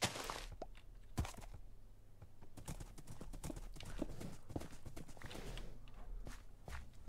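Horse hooves clip-clop in the Minecraft video game, a steady run of close, sharp knocks across the whole stretch, with a few heavier thunks standing out over a low hum.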